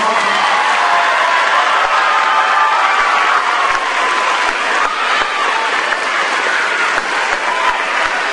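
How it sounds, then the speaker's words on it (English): Sustained loud audience applause for the 6th and 5th grade bands after a school spring concert, steady clapping throughout with a hint of crowd noise and light cheering. "So can we give the 6th grade band and the 5th grade band a big round of applause?"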